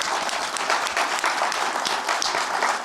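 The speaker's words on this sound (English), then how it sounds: "I just want to give one big round of applause to my friends at Microsoft" A live tech-event audience at a Microsoft venue breaks into a steady round of applause, dense clapping that holds even and loud throughout with no talk over it.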